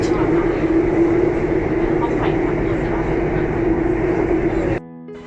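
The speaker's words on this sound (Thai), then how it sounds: "ตอนนี้เรามาถึงรถไฟใต้ดินสถานี ลาดพร้าวนะครับ" A Bangkok subway train rumbles steadily at Lat Phrao station, a loud continuous hum and rattle with a low drone that cuts off abruptly near the end, leaving a quieter platform tone.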